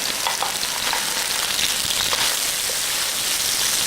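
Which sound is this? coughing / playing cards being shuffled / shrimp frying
shrimp frying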